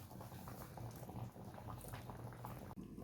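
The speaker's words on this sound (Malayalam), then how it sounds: "അങ്ങനെ നമ്മുടെ മീനൊക്കെ നല്ലപോലെ തിളച്ച് വരുന്നുണ്ട്." A fish curry of snakehead fish bubbling in a covered pot over a strong flame, a soft, steady simmer with faint burbling and light crackles, fairly quiet and without talk.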